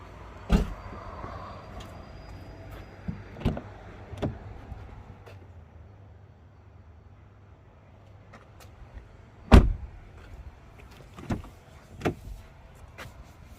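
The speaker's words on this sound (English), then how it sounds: "To shut the tailgate, push this button." A BMW X1 2.0 20i Sport power tailgate closes at the push of a button: a soft motor whir, then a few sharp clunks and a latching thud, with no voices.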